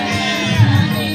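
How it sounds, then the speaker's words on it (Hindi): A crowd fills a temple in Vrindavan, a steady loud wash of many overlapping voices and hum close around, with no single voice standing out. "बहुत भीड़ है।"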